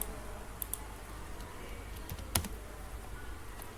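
A computer mouse gives faint, sparse clicks while someone builds a PowerPoint presentation, with a few light taps scattered over a quiet background hiss and no talking.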